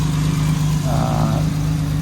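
A 1957 Jaguar XK140 fixed head coupe's engine runs steadily at idle, a close, continuous low rumble with no revving.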